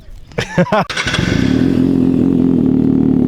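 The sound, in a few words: motorcycle cold start with Race Pro titanium exhaust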